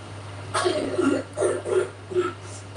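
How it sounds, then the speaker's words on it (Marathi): A young girl with a bad cough coughs in several short, harsh bursts, three or four fits spaced across a few seconds, close to the microphone over a low steady hum. "मग खोकला जाम चालू झालाय तिला"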